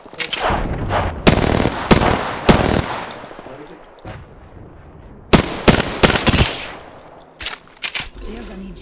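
Gunfire from a battle royale video game, heard in several loud close bursts of rapid shots separated by short pauses, with a faint voice in places.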